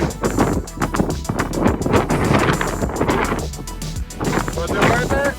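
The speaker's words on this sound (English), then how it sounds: "So now it's getting crazy windy" Strong wind on the summit of Mount Lafayette, White Mountains, buffets the microphone in loud, continuous gusts with a deep rumble throughout, a voice faintly mixed in.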